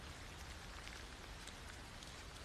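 Heavy rain at night falls steadily on surfaces, a dense, continuous hiss and patter with no pauses and no voices.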